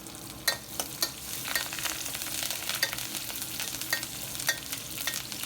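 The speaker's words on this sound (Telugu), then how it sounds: "ఇంకో one two spoons oil add చేసుకుని ముందుగా ఒక హాఫ్ స్పూన్ జీరా వేసుకుందాము అలాగే దంచిన వెల్లుల్లి రెమ్మలు కరివేపాకు కూడా వేసేసి" Cumin, crushed garlic and curry leaves sizzle steadily in hot oil, a bright continuous crackle broken by sharp pops and spoon scrapes as the pan is stirred, close up with no talking.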